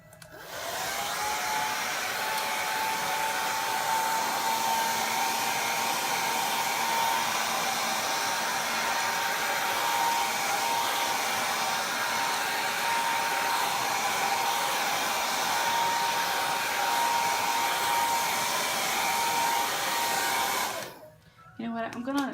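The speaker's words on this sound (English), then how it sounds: "Guess I need to plug in my hairdryer." A hair dryer blows with a loud, steady whining roar for about twenty seconds, then cuts off abruptly near the end.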